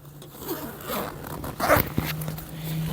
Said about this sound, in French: On retrouve une autre fermeture éclair